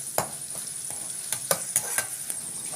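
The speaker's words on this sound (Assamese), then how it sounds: "যেতিয়ালৈকে পিঁয়াজৰ কালাৰটো ৰঙা নপৰে ৰঙচুৱা হোৱালৈকে পিঁয়াজখিনি আপোনালোকে ভালদৰে" Onions fry in hot oil in a pan for a chicken pulao, a soft continuous sizzle broken by several sharp scrapes and knocks of a spoon stirring against the pan.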